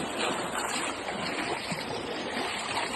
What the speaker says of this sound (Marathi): बघत असाल तुम्ही पाण्यात आम्ही चाललोय